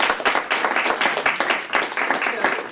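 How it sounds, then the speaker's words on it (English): An audience at a university business school career panel discussion breaks into sustained, dense clapping, close and steady for the whole stretch. "give a big round of applause"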